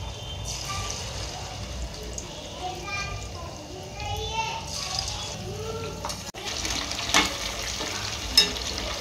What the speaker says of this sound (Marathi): आता आपण हे चिकन व्यवस्थित तळून घ्यायचंय।